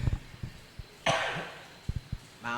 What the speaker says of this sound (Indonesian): Maaf, saya batuk deket lubang soalnya.